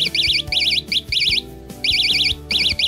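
A homemade earthquake alarm's buzzer, set off when its hanging weight is shaken, sounds a shrill warbling tone in repeated short bursts, loud and close, with soft knocks between them.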